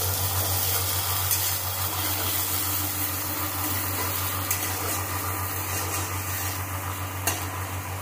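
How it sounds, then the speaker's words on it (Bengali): A large sliced onion frying steadily in oil with black cumin, a continuous dense sizzle with occasional faint stirring clicks, close and even throughout. "পেঁয়াজটা আমি ভালো করে ভেজে দেবো।"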